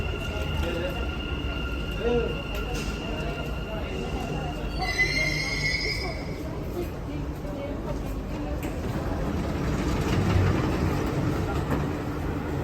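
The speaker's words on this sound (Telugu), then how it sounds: "మెట్రో వచ్చేసింది." A metro train rumbles into a Dubai metro station with a high, steady wheel squeal for a couple of seconds, over a constant station hum with voices and Arabic announcements in the background.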